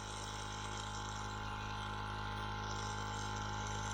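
A mist coolant sprayer on an LMS 6450 mini mill hisses steadily and close, with a liquid pumping and dripping texture over a constant mechanical hum and tonal whine, with no talk.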